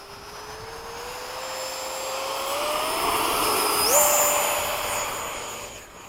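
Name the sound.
F-5 jet aircraft engine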